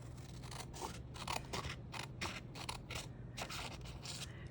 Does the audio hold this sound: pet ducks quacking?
no